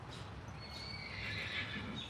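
A horse neighs in a paddock, a faint whinny rising and wavering over about two seconds against quiet outdoor background, with a hint of hoof clatter.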